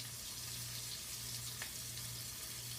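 A beer cream sauce simmers and reduces in a pan with a steady, close sizzle and soft bubbling that holds evenly throughout, with no one talking.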